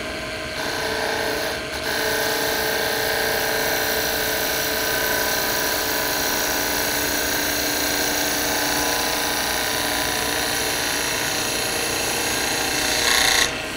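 A wood lathe spins a spindle blank for a snowman while a tool shaves off a high spot, giving a steady, close whir with a continuous scraping cut and a faint motor hum throughout.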